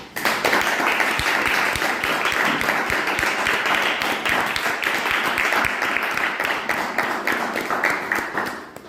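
A packed room applauds steadily as speakers are called up to the stage at a club gathering, dense clapping running loud and unbroken for nearly nine seconds.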